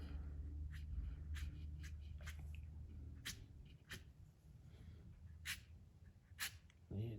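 Watercolor brush scratching across paper in a series of short, dry strokes, each a brief rasp over a low steady background hum, fairly faint and close.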